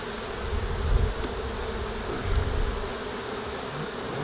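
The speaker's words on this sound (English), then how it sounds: "That is a yellow jacket." A yellow jacket wasp buzzes near an urban beehive, a continuous close insect drone that swells slightly at moments, with no talk.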